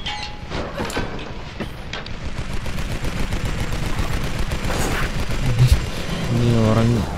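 Enemy gunfire in the video game Tomb Raider on PC, a dense chatter of rapid shots and bursts at steady loudness. A short tonal effect comes near the end.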